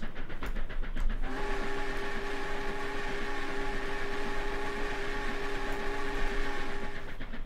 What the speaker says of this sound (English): Quite a long train. Freight.